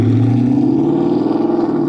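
A new 2022 Grabber Blue Metallic Ford Mustang with an MBRP exhaust rumbles loudly and steadily up close, its deep, throaty engine tone holding as it pulls away, with no talk over it.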